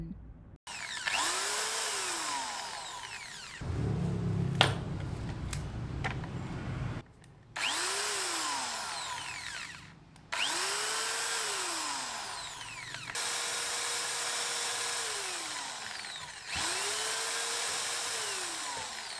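A power drill whines in repeated bursts while fitting a new door frame, its pitch rising and falling as it bites, with pauses and clattering handling noises between runs.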